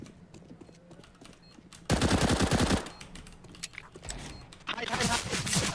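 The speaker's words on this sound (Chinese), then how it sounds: "他拿的是那个连发的手枪" Burst-fire pistol shooting in a CS:GO match, two rapid rattling volleys of shots close and loud, the first about a second long and a second shorter burst near the end, with excited voices talking over the game.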